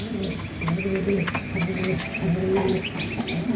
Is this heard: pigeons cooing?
yes